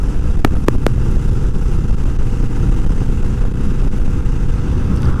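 A 2020 Vulcan S motorcycle engine pulls steadily at low revs, a deep continuous rumble with a few short sharp clicks near the start.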